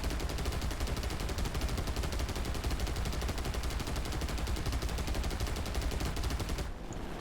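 A license-built Japanese copy of a German 13mm rear gun fires from a B7A2 Ryusei in War Thunder, a loud, rapid, unbroken stream of shots that runs for about six and a half seconds before stopping abruptly, with no voices.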